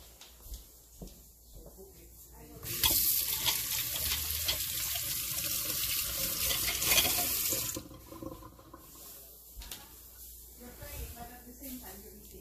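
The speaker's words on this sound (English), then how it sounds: "let me wash my hands" Hands being washed under a running kitchen tap, a loud steady gush of water for several seconds, with quieter kitchen sounds and talk before and after.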